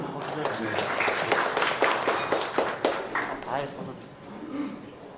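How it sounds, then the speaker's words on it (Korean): Wedding guests clapping before a congratulatory song, a room of hands applauding in a busy, fairly even burst that tapers off toward the end, with some murmuring voices underneath. "큰 박수로 청해 듣도록 하겠습니다."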